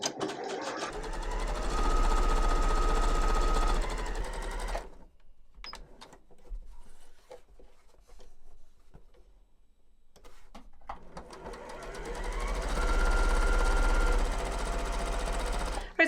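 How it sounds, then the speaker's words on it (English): A sewing machine stitches quilt pieces for a star block in two loud, steady bursts separated by a quiet pause while the fabric is repositioned. "I'm just going to sew on both sides of the line."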